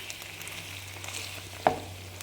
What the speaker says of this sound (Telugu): ఇప్పుడు ఇదంతా కొద్దిసేపు వేగనిచ్చుకోవాలి.